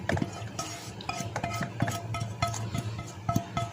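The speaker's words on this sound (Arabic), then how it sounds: "نقلبها كويس" Chicken is stirred into pasta in a pan for a quick negresco bake, with a spoon scraping and clinking against the metal in quick, irregular strokes, close and moderately loud.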